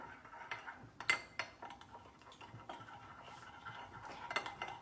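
A spoon stirs a dip in a bowl, producing quiet, irregular clinks and scrapes of metal against the dish, faint and close with no talking.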